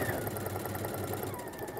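A sewing machine runs steadily, stitching quilt pieces along a quarter-inch seam: a continuous, fairly loud mechanical whir and rapid needle chatter without pause.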